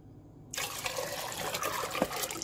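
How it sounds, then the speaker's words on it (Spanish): Water pours steadily into a pot, a continuous splashing rush starting abruptly and running on, close and fairly loud, while two liters are measured out for a chili pickling brine. "Voy a medir otro litro de agua para en total colocar"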